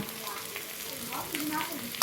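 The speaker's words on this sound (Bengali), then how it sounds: "ভাজা মশলাটা দিয়ে একটু ভালো করে ভাজা ভাজা করে নিয়ে" A fried spice mix is stirred into a vegetarian cauliflower and potato chop filling in a pan, giving a steady close sizzle with soft scraping and stirring throughout.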